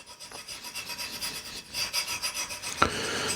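A steel burnisher rubbed flat along the edge of a wood-scraper blade, several soft rasping strokes up close, ending in a brief sharper scrape.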